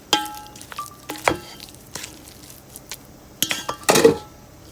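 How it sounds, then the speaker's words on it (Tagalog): A spoon clinks and scrapes against a bowl while potato salad is stirred with mayonnaise, a handful of sharp irregular clatters with quieter mixing between, close and fairly loud. "Mahirap maghalo ng isang kamay."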